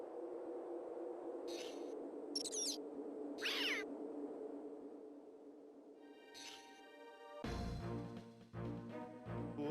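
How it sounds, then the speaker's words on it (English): A short synthesized cat sound effect from the Game Boy Advance Harry Potter 3 game, a few brief chirpy meow-like bursts over a low hum, followed by louder tonal game sounds. "So we get a nice sound effect of a cat"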